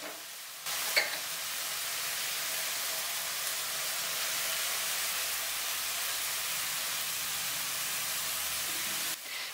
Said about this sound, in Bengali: বেশ কিছুটা সময় ভেজে দিয়ে দেব গাজর, রেড বেল পেপার আর ক্যাপসিকাম